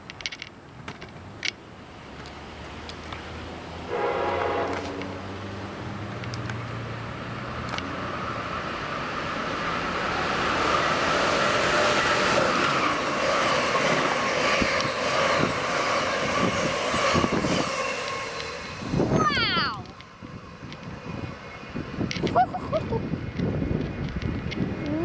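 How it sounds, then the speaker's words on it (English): An Amtrak Northeast Regional passenger train passes on the near track at Croydon station on a hot day. A loud, sustained rumble and roar builds and holds for many seconds, with a sharp screech near the end as the train clears. "Next up is Northeast Regional 95 to Norfolk on the close track."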